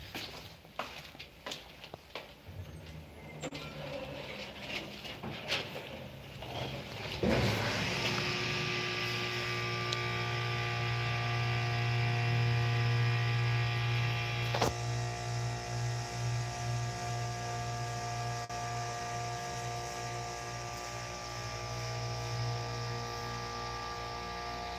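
Elevator hoist motor in the motor room of Leominster City Hall, starting with a clunk after some shuffling, then a steady low hum and whine running continuously with a brief click partway.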